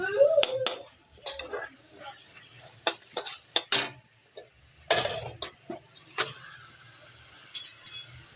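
Spice paste is stirred and sautéed in a pan, with sharp intermittent scrapes and clinks of a spoon against metal over a faint sizzle, close up with no voices.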